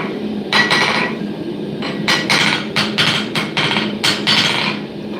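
A hammer strikes steel again and again while a parang blade is forged on an anvil. The blows are loud, sharp and ringing, in an uneven rhythm, over a steady hum from the workshop.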